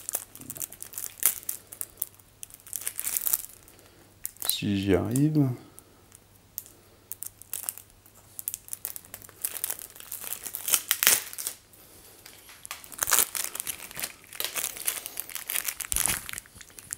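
Plastic wrap crinkles and tears as a wrapped card deck from the board game Barbarians: The Invasion is opened, in close, scratchy bursts mixed with light clicks, while someone talks.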